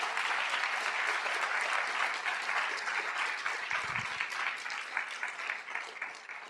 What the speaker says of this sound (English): I want you all to clap for Marty for what he went through.